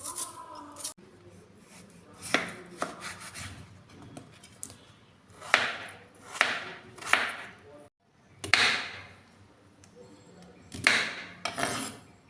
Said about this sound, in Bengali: এই ফাঁকে আমি আলু উচ্ছেগুলো কেটে নেব।